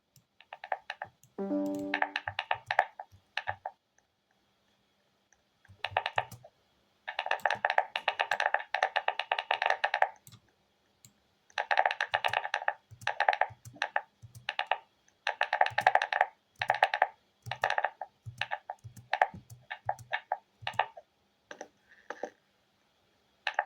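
Clicky mechanical computer keyboard typing in bursts of rapid, crisp key clicks separated by short pauses, fairly close and alone with no talking.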